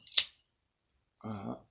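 A pipe lighter is struck once, a sharp, bright click near at hand, followed by a brief pause and then someone speaking French.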